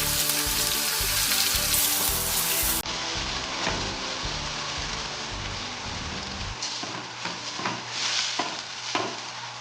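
Two large chopped tomatoes hit hot oil seasoned with asafoetida and turmeric, giving a loud, dense sizzle that crackles steadily throughout, with a brief clatter partway and stirring scrapes toward the end.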